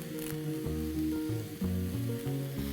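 Curry leaves hitting hot oil with sautéed onions in a pan for a prawn pepper fry, giving a close sizzle and crackle that spikes briefly around the middle, heard without talk.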